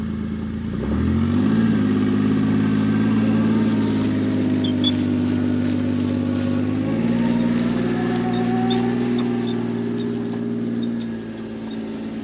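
A Mule utility vehicle's engine hums steadily nearby as it turns around on a hillside while hauling cedar logs, a mid-pitched drone that rises slightly as the machine throttles up, then eases near the end.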